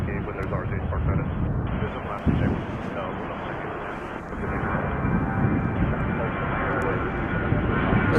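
A jet airliner departs Chicago O'Hare at sunset, its engine roar rumbling steadily and fairly loud through the whole stretch, with wind buffeting the microphone.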